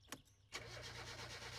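Satsuma engine in My Summer Car cranks with a short burst, pauses briefly, then catches and settles into a steady, loud idle.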